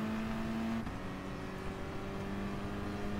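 Car engine in Gran Turismo Sport on PS4, droning loudly and evenly at a sustained pitch, with a gear change partway through and a steady higher note after.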